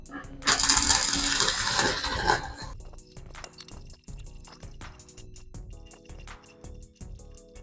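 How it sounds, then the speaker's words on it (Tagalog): A portable Fujima inverter welding machine set to 90 amperes gives a loud, dense crackling arc for about two seconds. It then drops off into quieter background sound. "Ito yung iyong welding machine. Lagyan natin sa 90 amperes. Testingin natin to."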